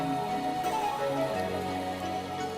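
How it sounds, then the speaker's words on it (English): Steady rain falls in the video game Wuthering Waves, a dense, even patter of drops in a port setting. Soft tonal background music runs underneath and no one speaks. "Are you trapped here by the rain?"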